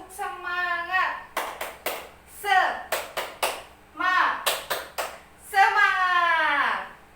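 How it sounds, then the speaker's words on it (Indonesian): A class of children doing the tepuk semangat spirit clap chant, with sharp bursts of unison claps in a rhythmic pattern between chanted call-and-response phrases led by a teacher's voice. "Nah, di sini ibu ada tepuk semangat."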